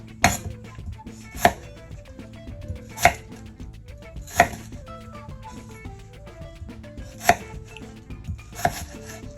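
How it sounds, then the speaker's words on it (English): A Santoku knife chops kielbasa on a cutting board in sharp, loud, evenly spaced strikes, roughly one every second and a half, close up and with no talking. "This Santoku knife, man, she is beautiful. Cuts beautifully."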